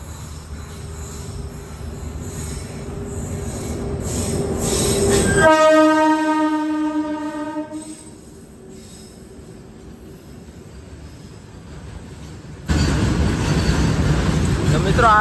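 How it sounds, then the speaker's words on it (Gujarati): A long train rolls past close by, its loud rumble swelling and then giving way to a sustained, tonal horn blast. Wheels squeal and the clatter goes on before a sharp return of loud rolling noise. "મિત્રો આ ટ્રેન તો બહુ લાંબી છે,"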